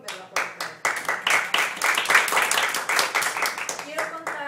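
Audience applause at a practice session of a public-speaking and oral-presentation workshop, a steady crowd of clapping hands that carries on for several seconds without letting up.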